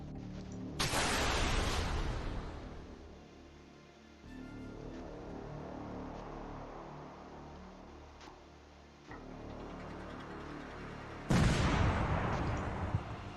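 Maverick missiles launched in the video game Command: Chains of War, heard as two loud blasting whooshes several seconds apart, separated by a continuous rumbling roar of flight and engine noise.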